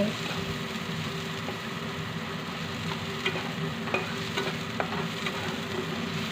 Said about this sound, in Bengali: পেঁয়াজগুলোকে ব্রাউন কালার করে অবশ্যই ভেজে নেবে কিন্তু।